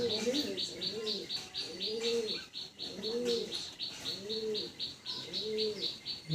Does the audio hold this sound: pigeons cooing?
yes